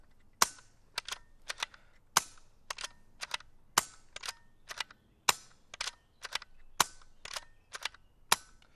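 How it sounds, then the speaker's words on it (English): A BSA R-10 air rifle being degassed fires a series of sharp, short snaps at an irregular rhythm, around fifteen to twenty in all, quiet and close, with near silence between shots. "You can now hear that the shot has become almost silent"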